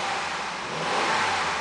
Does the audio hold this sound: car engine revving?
yes